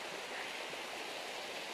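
Goat Creek flowing in winter in the Methow Valley, a steady, dense broadband rush of running water that stays even and continuous, heard alone with no voices.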